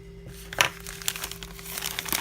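Plastic mailer package being cut open, crinkling and crackling of plastic with short tearing bursts, close up and without talk.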